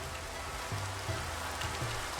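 Rain falls steadily in Minecraft, a soft even hiss of drops heard alone, moderately quiet, with faint low in-game tones pulsing underneath.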